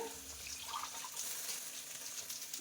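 Water poured into a cooking pot of fish curry with yogurt and tomato, a faint continuous splashing pour lasting a couple of seconds, no voices.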